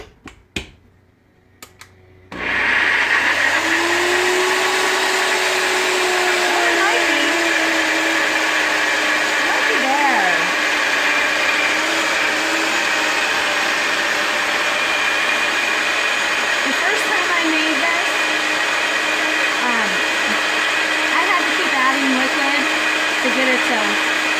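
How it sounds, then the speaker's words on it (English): A NutriBullet personal blender whirs loudly and steadily for a long stretch after a brief start, its motor pitch wavering slightly as the vegetables churn. "this NutriBullet makes tons of noise"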